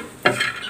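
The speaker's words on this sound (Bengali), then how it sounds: "এই যে আমি এখন এটা হালকা করে ভেজে নিচ্ছি।" Shelled raw peanuts go into hot oil in a pan with a sudden close sizzle and a stirring scrape, and the frying hiss carries on steadily for a brief moment.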